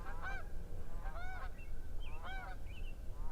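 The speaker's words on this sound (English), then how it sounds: "Geese." Geese honk in a few short bursts of harmonic calls, spaced irregularly over a faint background hum, moderately close and clear with no speech.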